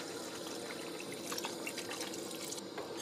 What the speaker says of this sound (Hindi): तरी के लिए पानी डाले हैं